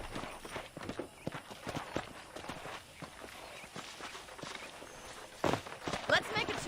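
Horse hooves clip-clop in an uneven rhythm, moderately close, with bursts of louder steps near the end, on a ranch in the video game Red Dead Redemption.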